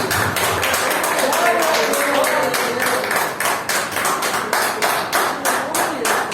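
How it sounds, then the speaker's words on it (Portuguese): Church congregation at a Sunday service applauding, a steady stream of many hands clapping in a fast rhythmic patter, loud and close, with voices underneath. "Aplauda Jesus Cristo nesse momento."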